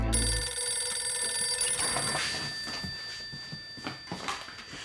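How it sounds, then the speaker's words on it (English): A telephone rings loudly with a harsh, bell-like electronic tone, fading out after a couple of seconds into quieter background noise. "the phone began to ring, like an angry alarm clock way too early in the morning"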